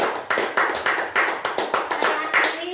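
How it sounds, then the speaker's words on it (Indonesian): Applause from an audience honouring fathers and teachers at a school event, a dense burst of clapping with rhythmic surges, loud and close. "Sekali lagi beri tepuk tangan."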